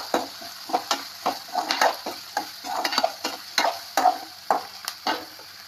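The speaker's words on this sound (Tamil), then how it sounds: "இதை போட்டு ஒரு பொன்னிறமாக வறுத்துக்கிடலாம்" Curry leaves and green chillies fry in hot oil for a Nagercoil-style squid roast, giving a steady crackling sizzle broken by repeated scraping stirs of a spoon against the pan, close and fairly loud, with no voices.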